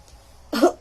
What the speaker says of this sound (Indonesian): Dan yang ketiga, batukan secara kuat.